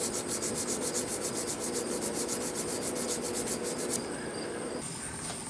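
Stratocaster guitar body sanded by hand with 400 grit sandpaper, a close, steady rhythmic scratching of rapid back-and-forth strokes that slows and thins near the end.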